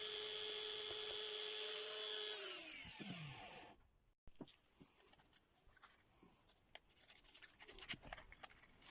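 Sanding a driftwood hazel ring: a steady high-pitched whine of a small rotary tool runs loud and continuous, then winds down and stops, leaving faint handling clicks and rustles.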